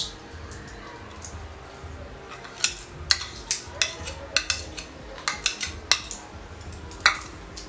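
A spoon clinks repeatedly against a bowl while whisked yogurt is mixed into raw chicken for a methi chicken gravy, a steady run of sharp metallic taps up close with no talk.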